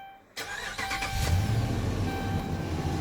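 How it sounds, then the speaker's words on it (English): A pickup truck fitted with a Meyer E58-H snow plow pump cranks briefly and catches, then settles into a steady, close idle rumble. "I'm gonna go ahead, start the truck."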